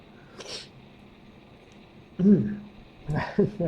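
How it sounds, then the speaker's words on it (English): A single sneeze bursts out, a short sharp intake followed by a forceful explosive exhale, fairly close and loud against a quiet room. "I have to sneeze"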